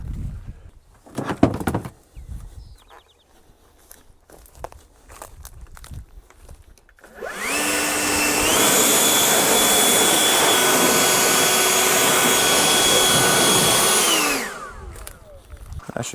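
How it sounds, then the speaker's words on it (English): A leaf blower roars steadily, close and loud, for about seven seconds as it pushes air through a tractor that overheated while brush hogging tall brush, following quieter shuffling and handling noises. "Definitely need to get the blower in there"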